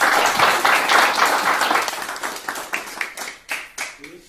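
A live studio audience at a French-language talk show claps loudly, a dense burst of applause that gradually thins into scattered individual claps, with voices mixed in.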